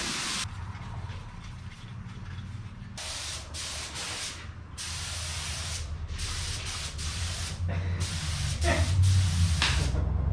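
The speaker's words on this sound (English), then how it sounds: "He's having too much fun just spraying away." Bursts of aerosol spray paint hissing onto metal wheel tubs for a 1977 Datsun in repeated long blasts with short pauses, close and steady, over a low background rumble.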